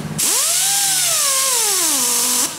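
A high-speed power tool polishing around welds on metal pipes whines loudly and close, its pitch rising as it spins up, then dropping as it bears down on the surface before stopping.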